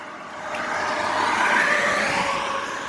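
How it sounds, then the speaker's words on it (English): Fast road traffic sweeps past near a trail around Harpers Ferry, a steady broadband whoosh that swells to a peak mid-clip and eases off slightly, with no voices. "yeah, that traffic bothers me. I'm not used to it. Everybody's going so fast."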